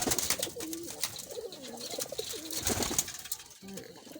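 Red wild pigeons kept in a coop, repeated low rolling coos from several birds close by, overlapping with rustling and a few faint chirps.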